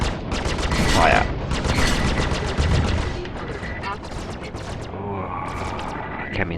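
Neutron cannons firing from a Super Hornet fighter in the Star Citizen space game, a loud rapid stream of heavy shots rattling for a few seconds before tapering into hum, with a voice speaking over it.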